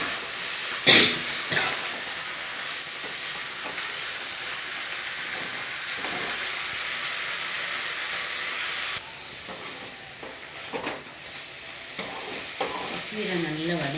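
Steady rain hisses outside during home cooking on a rainy day, a constant wash of noise with a few clicks and kitchen clatters layered over it.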